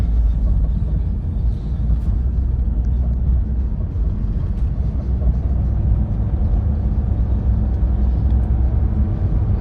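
A 2011 Nissan Qashqai+2 with a 2.0 petrol engine and automatic gearbox hums and rumbles steadily from inside the cabin as it accelerates, a low, even drone with smooth gear changes.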